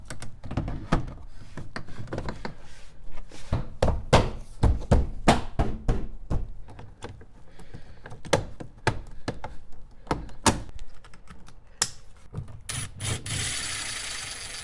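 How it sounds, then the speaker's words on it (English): Nissan Rogue rear door panel being refitted: a string of sharp plastic knocks, taps and clip thunks in irregular bursts, close and fairly loud, with a brief rubbing scrape near the end. "Let's go ahead and reassemble the door panel."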